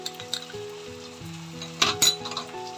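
Ginger and garlic tipped into deep-fried onions crackle and sizzle steadily in hot oil, broken by sharp clinks of a spoon against the pan, close up and with no voices.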